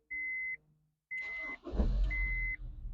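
A mid-2000s Honda S2000 with push-button start chimes with a few steady electronic beeps, then its engine cranks and catches into a low, rumbling idle close by, with no talking.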